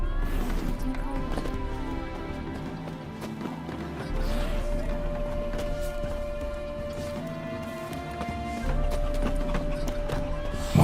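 Hooves of the horse Roach from The Witcher 3 clip-clop in a steady, fast galloping rhythm, loud and continuous beneath game music, with occasional heavier thumps.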